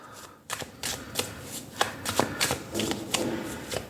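Tarot cards being shuffled by hand, a series of crisp riffling flicks and soft slaps at an irregular rhythm, close and fairly quiet with no talk.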